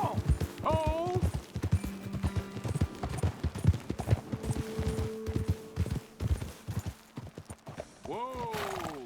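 Horses in the Red Dead Redemption II video game clip-clop along in quick, uneven hoofbeats, with a whinny near the start and another at the end, while voices talk over them.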